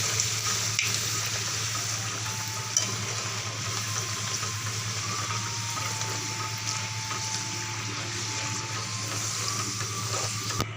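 A puri deep-frying in hot oil with oil spooned over it makes a continuous, fairly loud sizzling hiss that holds steady throughout, with no voices.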